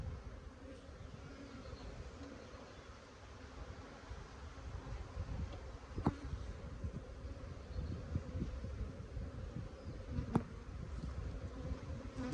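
Honeybees buzz densely around an opened hive during an inspection, a steady close drone with a few sharp clicks and knocks from the hive.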